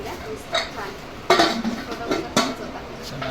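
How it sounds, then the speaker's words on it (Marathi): A metal pressure cooker is handled, with a few sharp clanks and knocks at irregular intervals while people talk nearby. "मस्त आहे हा कुकर भेटलाय छान"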